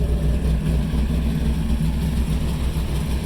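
A 1970 Dodge Charger's 500 cubic inch V8 rumbles steadily up close, a loud, deep, continuous drone with a slightly lumpy pulse and no voices.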